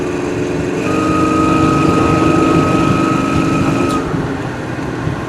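A 1972 Chevrolet C10 pickup with an aftermarket aluminum radiator and dual electric fans runs on a test drive, a steady loud engine drone with a faint whine, swelling slightly then easing, with no voices.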